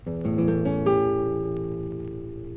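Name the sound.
acoustic guitar strumming A seventh chord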